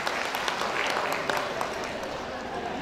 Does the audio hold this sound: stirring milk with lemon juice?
no